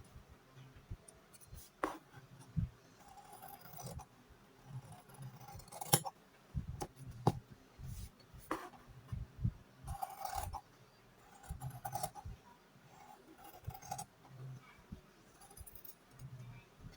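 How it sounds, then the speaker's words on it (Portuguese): Small ordinary scissors snip through doll dress fabric in quiet, irregular cuts with soft rustling of the cloth, close and faint, with no talking. "O restante aqui eu vou cortar com a tesourinha comum."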